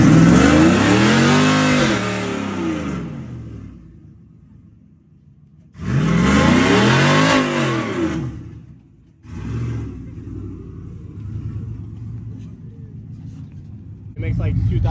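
A show truck's engine of about 2,000 horsepower revs hard in two long, loud roaring bursts, with lower idling rumble between them and people talking over it.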